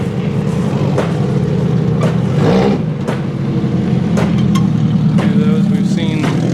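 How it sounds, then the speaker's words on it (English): Stock cars rumble and rev as they roll in at the Connersville Fall Derby, a steady close engine drone with a voice speaking over it. "stock cars coming in"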